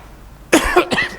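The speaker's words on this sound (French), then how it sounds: "pardon, parce que je tousse" A couple of sharp, close coughs break a quiet moment, the second following shortly after the first.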